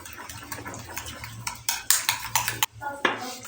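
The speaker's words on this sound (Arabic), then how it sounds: "هنقلب الحاجة دي كويس في بعض." A spoon stirs black pepper, turmeric, mixed spices and a crumbled stock cube together in a bowl, giving close, irregular scrapes and clinks against the bowl that grow louder and sharper midway.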